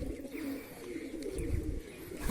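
A single pigeon coos low and steady against rustling background noise, close by, for a couple of seconds.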